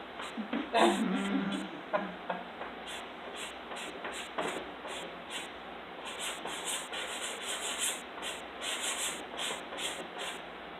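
A gritty, very sandy Diane Townsend Tirage pastel stick rubs across paper in short scratchy strokes, close and fairly quiet, with a brief louder burst near the start followed by steady repeated scraping.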